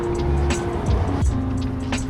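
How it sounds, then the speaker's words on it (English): Cars buzz steadily past on a busy Los Angeles city road, with a continuous, fairly loud traffic hum and engine tones rising and falling as vehicles pass nearby. "always cars buzzing by."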